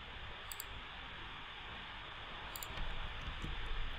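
A computer mouse gives two or three faint, crisp clicks, spaced well apart, over a steady hiss of background noise.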